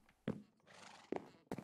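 Minecraft horse neighing in a farmyard game level, heard as a few short, loud whinnying bursts separated by brief pauses, without talk.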